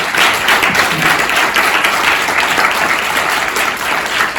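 Loud, close applause from students and teachers at the closing ceremony of a debate festival, an unbroken, even roar of many hands clapping across the whole stretch.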